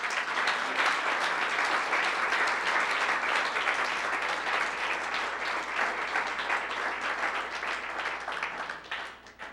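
A church congregation at a Church of Christ service breaks into loud, sustained applause, dense clapping from many hands filling the whole stretch and tapering slightly at the end.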